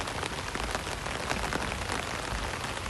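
Steady rain pouring during a walk through Phuket, Thailand, a dense continuous hiss of drops close by with no voices.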